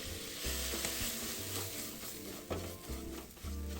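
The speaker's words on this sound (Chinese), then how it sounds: "继续翻炒至香味完全融合即可关火" Spicy preserved radish being stir-fried in a wok, a continuous soft sizzle with repeated scraping and tossing strokes of a spatula, heard close but fairly quietly over faint background music.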